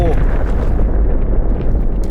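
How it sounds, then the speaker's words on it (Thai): A grenade detonates in the shooter game Delta Force, leaving a loud, broad rumbling blast and debris-like wash that stays strong and slowly thins out. "เออดดีนะเป็นระเบิดเพื่อนเรา"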